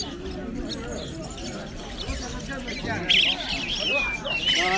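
Myna birds at a pet stall in an animal market give sharp chirps and squawks, strongest near the end, mixed with background chatter and crowd noise.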